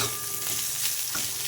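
Chicken fries in a pan with a continuous close sizzle and faint stirring scrapes, with no one speaking.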